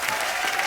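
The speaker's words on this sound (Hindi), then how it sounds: "एक बार जोरदार तालियां बच्चा के लिए" Studio audience applauding on an Indian TV comedy talk show, a loud, dense, continuous wash of many hands clapping at once throughout the brief moment.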